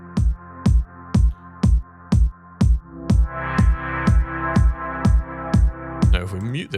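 A music track pumps under sidechain compression, with a kick drum thumping about twice a second while the sustained synth chords duck and swell after each hit in a steady rhythmic pulse, loud and alone.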